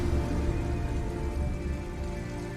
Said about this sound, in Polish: Dobra, pada deszcz.